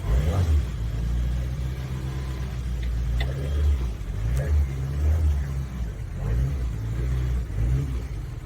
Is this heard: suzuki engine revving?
yes